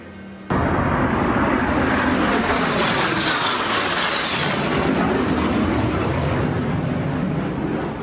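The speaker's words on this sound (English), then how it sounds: "The Navy honoring President George H.W. Bush with a 21-plane flyover salute." A 21-plane Navy flyover salute honoring President George H.W. Bush: a loud, sustained roar of jet engines begins abruptly and rolls on continuously overhead, with a sweeping pitch shift as the formation passes.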